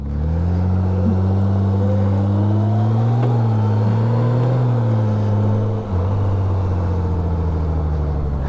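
A Can-Am Spyder RT Limited powered by a Gold Wing engine takes off, giving a loud, smooth, steady engine drone whose pitch rises gently and then dips near the end, heard up close with no talk.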